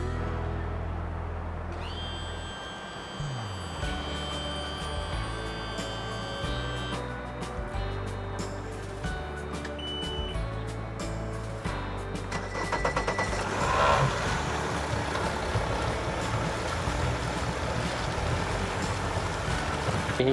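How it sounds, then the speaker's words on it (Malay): A boat engine idles as it warms up before setting out, giving a steady low rumble with broadband noise. It drones continuously under a shifting outdoor wash, without speech. "Okey, kita akan panaskan enjin."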